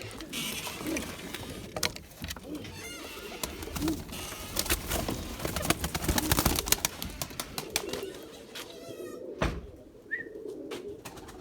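Purebred Erzurum white pigeons cooing repeatedly amid clattering and rustling, with scattered chirps and a busy, close-up loft atmosphere throughout.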